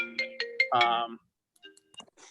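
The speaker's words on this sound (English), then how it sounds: "Somebody has a phone call." A phone ringtone chimes during a Senate health and welfare hearing, a short run of bright repeated electronic tones, fairly loud and close, then a few faint clicks and rustles after it stops.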